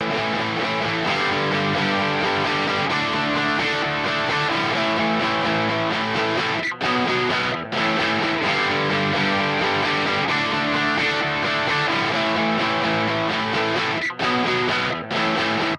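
Electric guitar through an amp simulator, with mild, subtle emo punk distortion, plays a steady sustained part, briefly cutting out twice before resuming.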